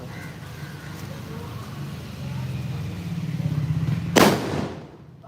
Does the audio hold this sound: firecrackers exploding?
yes